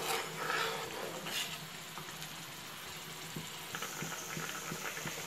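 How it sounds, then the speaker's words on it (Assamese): Water simmers and bubbles in a cooking pot for a sour fish curry with greens and tomatoes, a steady low churning bubble with a few soft clinks of utensils, fairly close and continuous with no talk. "এইখিনি পানী দিয়াৰ পিছত উতলি আছে"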